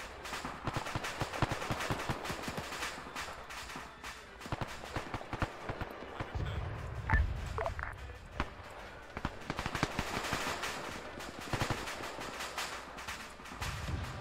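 Bursts of gunfire in an Arma 3 World War II beach battle, German Iron Front setting: rapid irregular cracks and rattles scattered throughout, some near and sharp, others distant, over constant battlefield noise.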